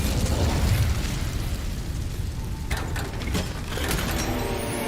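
In Hogwarts Legacy, an Incendio fire spell burns an object with a loud, continuous roaring blast that crackles and pops throughout, heard up close with no talk over it.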